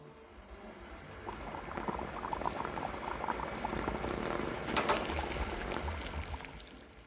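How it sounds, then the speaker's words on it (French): Water boiling in a saucepan in a kitchen, a soft continuous bubbling and rumbling heard alone at a low level, swelling slightly toward the middle. "L'eau qui bout dans la casserole."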